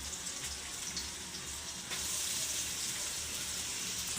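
Chopped garlic and onion go into hot frying oil, and a steady close sizzle swells louder at the moment they land and keeps hissing evenly after.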